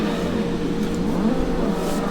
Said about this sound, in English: you're going to be on the gas the whole time